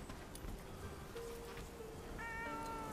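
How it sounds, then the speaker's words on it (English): Kitten in the medieval village game Bellwright gives a short mew late on, fairly clear above quiet ambient background and a faint tonal music bed; no speech. "Oh my god, there's a little kitten."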